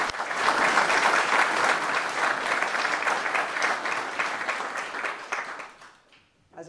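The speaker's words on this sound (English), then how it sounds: "So I want to give her another round of applause." An audience at a commemoration evening claps for a woman honoured for her work, a steady sustained round of applause that fades out near the end.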